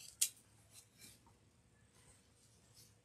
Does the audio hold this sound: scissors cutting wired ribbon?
yes